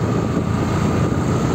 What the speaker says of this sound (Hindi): ये तो नया थ्रेसर है, इस साल ही लिए बंदों ने